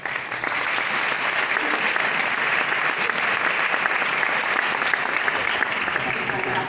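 Sustained, loud applause from an audience at a healthy-companies business event welcoming a speaker, many hands clapping evenly for several seconds with a faint voice briefly underneath.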